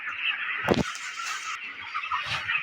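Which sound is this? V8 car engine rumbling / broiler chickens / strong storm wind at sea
broiler chickens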